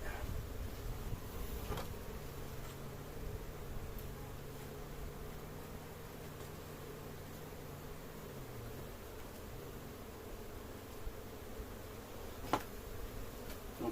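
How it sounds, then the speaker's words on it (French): Honeybees buzz in a steady, continuous drone during the transfer of a nucleus colony into a full hive, with a few louder bees passing close by and occasional handling knocks. "Donc les abeilles commencent à rentrer"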